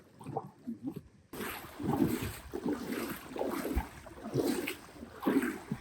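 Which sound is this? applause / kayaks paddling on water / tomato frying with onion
kayaks paddling on water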